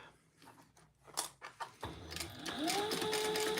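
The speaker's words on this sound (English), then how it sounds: "So I'm just basting this bottom gusset together, 1/8 of an inch, and then top stitching." A sewing machine basting the bottom gusset of a crossbody bag: soft taps and clicks first, then the motor runs in a steady mechanical whir with a rising hum as stitching gets under way.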